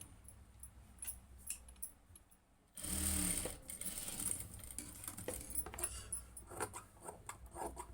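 Sewing machine stitching cloth joints, running in a steady whirring burst with faint ticks and clicks around it, fairly quiet and close.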